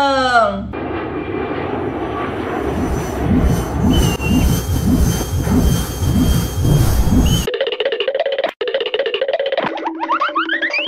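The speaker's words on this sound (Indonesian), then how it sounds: "Pesawat terbang." A cartoon airplane sound effect plays: a jet engine roar swelling and fading in waves, loud and close, then a brief springy sliding boing and chirpy toy tones at the end. A voice speaks over part of it.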